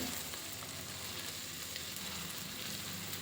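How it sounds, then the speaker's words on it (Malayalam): Green chilli, ginger and garlic sauté in a pan for a Kerala-style chicken curry, giving a steady, moderately quiet sizzle that runs evenly throughout with no talking. "ഇനി ഇതും ഒന്ന് വഴറ്റിയെടുക്കണം പച്ചമുളകും ഇഞ്ചിയും വെളുത്തുള്ളിയുടെയൊക്കെ പച്ചമണം മാറുന്നത് വരെ വഴറ്റാം"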